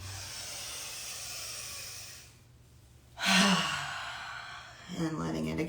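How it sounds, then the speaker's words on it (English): A person breathes out deeply through the mouth during a guided relaxation breathing session: a long, soft, airy exhale that swells, fades, then starts again, over a quiet background hum. "a nice big breath out and letting it all flow through"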